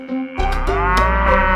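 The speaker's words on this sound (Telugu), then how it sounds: "నువ్వు గేదెవా కోడివా? ఎంత పొద్దున్న అరుస్తావేంటే?" A buffalo lets out one loud, long, close moo in the early morning, a deep sustained bellow that fills most of the moment.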